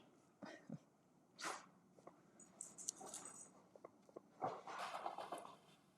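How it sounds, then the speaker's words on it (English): A dog indoors makes a few short, faint snorts and sneezing huffs, breathy and sporadic against a quiet room. "You hear my dog?"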